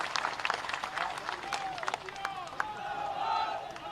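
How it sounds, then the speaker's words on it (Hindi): Crowd at a political rally for Jyotiraditya Scindia's nomination clapping, scattered sharp claps and rumbling cheers fairly distant, with voices and shouts mixed in. "एक बार जोरदार ताली बजाओ तो हमारे सिंधिया जी के लिए"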